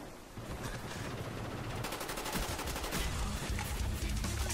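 Rapid automatic gunfire in the shooter Black Ops rattles in dense, continuous bursts at close range, loud and unbroken throughout, with no speech.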